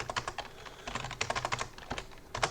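Quick, uneven keystrokes clatter on a computer keyboard up close, a short run of crisp taps with tiny gaps and no voice.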